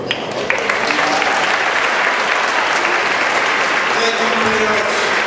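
Graduation audience in Springfield applauding parents and family, a dense, loud, sustained wash of clapping from a large crowd that runs steadily from start to finish.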